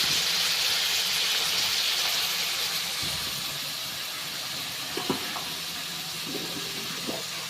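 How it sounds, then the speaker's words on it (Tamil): Onion, tomato and green chili sizzle in hot oil in a home kitchen, a steady close frying hiss that softens partway through, with a few light clinks of a utensil against the pan. "வெங்காயம் தக்காளி பச்சை மிளகாய் இதெல்லாம் சேர்த்து இப்போ வந்து வதக்கிட்டு இருக்கேன்"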